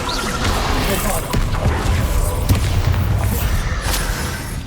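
Bombarda explosion spells in Hogwarts Legacy, dense booming blasts and crashing debris forming a loud, continuous barrage of impacts without pauses.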